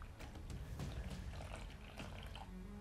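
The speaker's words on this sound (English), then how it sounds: "I'm just going to go ahead and pour some water here into the sarlacc mouth" Water poured into the mouth of a homemade Star Wars sarlacc toy built into a potty training toilet, a steady close splashing trickle lasting throughout without speech.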